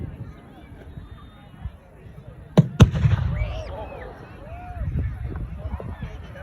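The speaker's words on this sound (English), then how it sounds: "we're just going to fire the hook gun again" At a medieval battle festival, a hook gun, an early black-powder firearm, fires twice in quick succession with sharp, loud cracks and a rumbling tail, amid outdoor crowd murmur and people talking.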